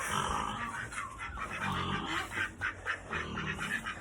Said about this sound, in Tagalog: Yung mga pato, gansa.